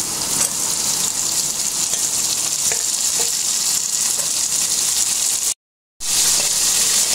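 Chopped potatoes frying in hot oil in a pan with bay leaf and salt, a loud continuous sizzle that cuts out briefly near the end, then resumes.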